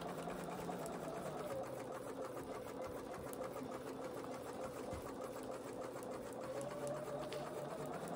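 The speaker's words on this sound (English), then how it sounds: "This is a top edge foot really, but it's not meant for this. I've got the stitch length on 3." A domestic sewing machine fitted with a top edge foot stitches quilted fabric at a stitch length of 3, a steady rapid whirring hum that runs evenly and close throughout.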